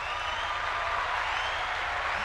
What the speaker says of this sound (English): Well, round of applause.